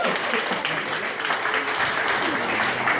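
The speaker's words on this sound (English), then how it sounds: "Get up for a round of applause." A round of applause from the audience at a VIP cocktail event, steady clapping across the room mixed with background chatter.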